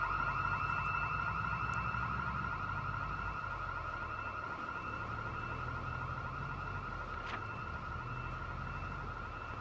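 A laser sensor alarm system in 1993-set Project Zomboid sounds continuously, a steady electronic tone with a faint pulsing warble over low background rumble, no talk.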